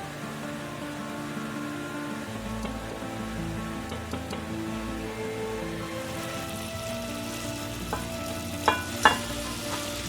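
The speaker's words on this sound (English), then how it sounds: "Brown about a kilo of ground beef and add that to the pot with the vegetable." Ground beef browning in a pot, about a kilo of chopped beef mixed with homemade bacon, gives a steady close sizzle and crackle with a few louder pops near the end, with no talking.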